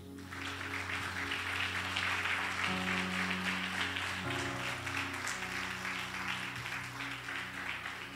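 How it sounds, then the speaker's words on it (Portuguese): A church congregation applauds during an evening worship service, a sustained wash of clapping with sustained keyboard tones underneath, steady and fairly distant. "Você pode aplaudir ao Senhor?"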